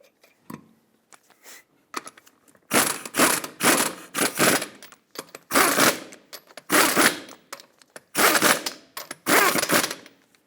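A torque wrench tightens five lug nuts to 76 foot-pounds on a 2003-2008 Toyota Matrix, loud close ratcheting bursts repeating in about seven rhythmic runs with brief pauses between.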